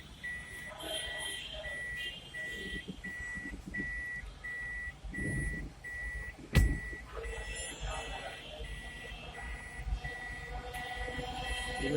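A car's reversing alarm, triggered once reverse gear is engaged while parking, sounds a steady run of regular high beeps. Someone talks over it, and one soft thump comes midway.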